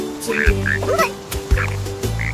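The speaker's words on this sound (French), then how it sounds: "Quelques grenouilles se sont réunies et entendent l'océan bavarder." Frogs croak in short repeated bursts over a low pulsing drone, close and loud, with overlapping calls.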